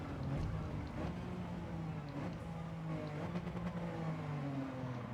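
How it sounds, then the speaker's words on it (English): A racing car engine revs on a lap, dropping through the gears in first for a double apex, then going back on the power. The tone is steady and fairly faint, with buzzy harmonics and no voices. "Just chattering the gears in first for this last double apex."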